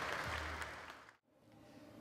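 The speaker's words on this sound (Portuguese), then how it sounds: "Uma salva de palmas, por favor." An audience applauds the writer Bráulio Tavares at the FLUPP Pensa 2012 talk in Maré, a dense, faint spread of hand claps that fades out near the end.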